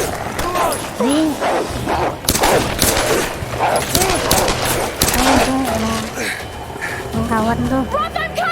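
Gunfire in Tomb Raider Definitive Edition, sharp repeated shots and bursts in quick volleys mixed with thuds, loud and close, with a voice talking over the action throughout.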